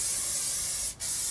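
Continuous broadband hiss of seasoning oil being sprayed inside a Yoder Frontiersman offset smoker, steady and close for over a second with one brief pause in the spray near the end.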